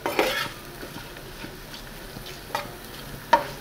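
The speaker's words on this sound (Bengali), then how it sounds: "এগুলাকে দিয়ে ভালোভাবে ভেজে নেব।" Chopped onion and minced meat fry in a pan, a steady sizzle broken by a few close utensil scrapes and stirring knocks.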